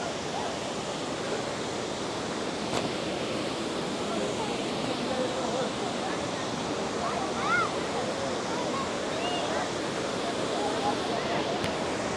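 Devkund Waterfall in Mayurbhanj sends water rushing down in a steady, loud, broadband roar that never lets up, with voices faintly mixed in.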